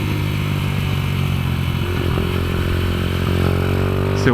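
A highly modified Kayo MR125 motorcycle rides on a kart track, its engine droning steadily up close and then rising in pitch as it revs, with light clatter throughout.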